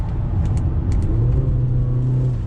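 A 2020 Honda Fit hatchback drives through a tight right-hand corner over rough, ripped-up pavement, a loud steady engine and road rumble from inside the car with a few brief higher-pitched squeaks.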